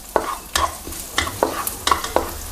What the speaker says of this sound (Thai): พอน้ำมันร้อนใส่กระเทียมสับลงไป2ช้อนโต๊ะ